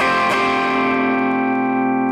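An electric guitar with heavy distortion strikes a chord twice in quick succession, then lets it ring loud and sustained with a slight effects shimmer, alone without speech.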